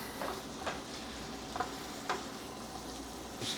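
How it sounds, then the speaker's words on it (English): A ground spice mixture for spicy venison tacos toasts in a hot pan, giving a steady close sizzle with light periodic scrapes and clicks of stirring and no voices. "Stir that around. Let all those spices toast a little bit."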